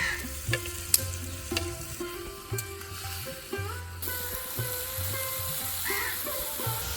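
Fried potatoes tipped into a hot frying pan for a shaak dish, giving a steady sizzle with intermittent stirring clatter and scrapes close by, no voices.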